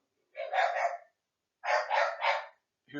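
A few dogs barking in quick bursts, one short volley followed by three close, loud barks, then another starting at the end, with nothing else around.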